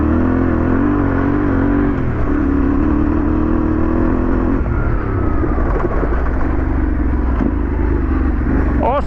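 A Yamaha T7 adventure motorcycle pulls hard in second gear along a trail during a TRF ride. The engine drone is loud and close, rising steadily with some clatter.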